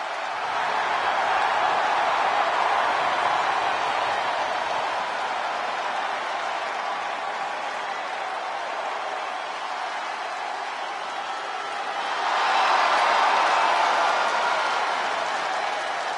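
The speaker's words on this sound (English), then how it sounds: "The crowd is on their feet for Jey Uso." An arena crowd roars in the WWE 2K25 wrestling video game, a loud continuous wash of cheering that dips slightly and then swells again near the end.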